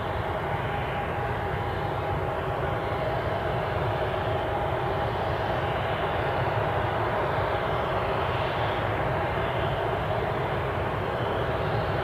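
A jet airliner's engines spool up at Newcastle International airport, a continuous loud roar and whine held steady for several seconds, heard from a distance with no talk over it.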